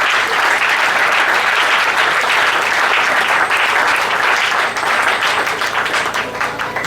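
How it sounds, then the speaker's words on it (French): A church congregation breaks into sustained, loud applause, dense clapping that fills the room steadily for several seconds and fades slightly near the end. "Acclamons pour la gloire de notre Dieu."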